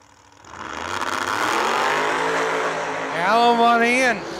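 A 2014 Camaro drag race car revs on the starting line, its engine climbing into a loud, sustained, rising roar, with a voice heard faintly at the start.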